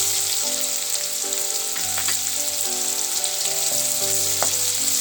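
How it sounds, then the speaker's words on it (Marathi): Onion and asafoetida sizzling in hot oil for a tempering, a loud, steady, close frying hiss that carries on unbroken, with faint clinks from the pan. "हिंग घालूया आणि नंतर कांदा घालूया।"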